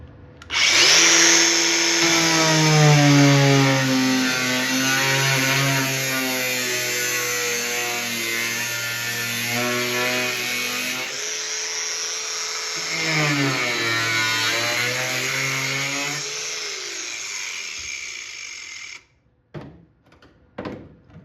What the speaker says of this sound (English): So now I'm gonna have to cut this right here and here for now and see what it looks like.